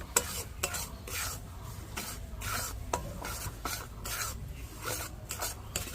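Semolina stirred in ghee in a pan, heard as a quiet, close run of repeated rhythmic scraping and rasping strokes over a faint sizzle, with no voices.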